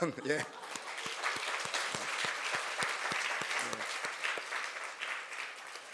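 A large church congregation claps together in warm, sustained applause at a New Year's Eve service, starting right after a brief voice and filling the room.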